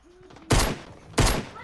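Two sharp pistol shots from a Fortnite match, roughly half a second apart, each a loud broadband crack with a short decaying tail, heard close and clear with faint game sounds between.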